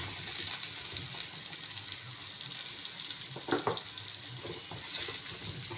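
Boiled potato pieces are stirred into a fried onion masala for aloo methi, giving a soft, continuous sizzle broken by scattered light scraping and clinking from the stirring.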